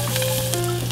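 Sliced garlic and shallots hit a hot pan, making a loud, dense sizzle that holds evenly through a brief moment, with a faint steady hum underneath.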